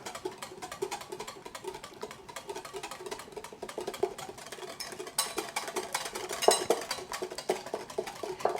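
A whisk works an emulsion in a bowl with steady, fast, rhythmic clicks and scrapes against the sides, continuing without a break at moderate loudness.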